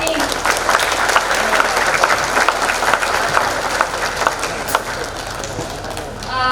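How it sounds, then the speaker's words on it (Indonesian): An audience at an arts performance applauds for Citra Kartini. Loud, dense clapping with some cheering runs steadily for several seconds and rises again at the end. "Tepuk tangan dulu untuk Citra Kartini."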